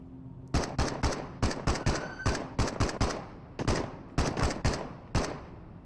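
Short bursts of rapid gunfire in the Into the Radius game, sharp cracking volleys in several quick clusters with brief pauses between them, loud and close, with no talk.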